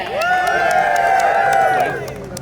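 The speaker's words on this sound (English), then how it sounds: "Can I get a gay cheer?" A crowd cheers loudly at an outdoor Pride rally recreating London's first Pride, many voices whooping together in one sustained swell for about two seconds before tapering off.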